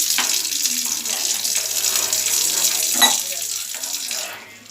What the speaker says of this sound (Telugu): ఇప్పుడు మనం దాంట్లో కొంచెం వాటర్ వేసుకోవాలి.